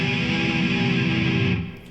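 A distorted electric guitar sustains a single open, gothic-sounding chord, loud and dense, fading off near the end with no talk.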